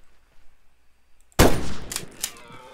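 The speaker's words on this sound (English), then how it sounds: "Why'd you just shoot?" A single loud gunshot in the Bigfoot hunting video game cracks out suddenly after near silence, then rings off with a decaying tail and a couple of faint metallic echoes.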